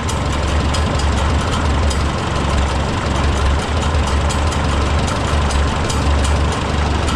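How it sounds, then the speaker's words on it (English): Oliver 66 tractor four-cylinder engine idling near the freshly rebuilt Marvel Schebler TSX carburetor, a steady loud low chug with the rapid rhythmic chatter of the exhaust cap flapping on top, continuous throughout without speech. "That exhaust cap chatter."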